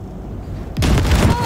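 Gunfire blasts at wrecks in the video game Cyberpunk 2077, a quiet lead-in broken by a sudden loud burst that rolls into a sustained blasting roar.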